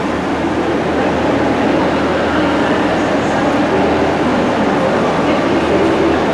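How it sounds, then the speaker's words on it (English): A train pulls into a Harrogate Line station, a steady loud rumble of wheels and carriages filling the whole stretch without a break. "our train is actually arriving"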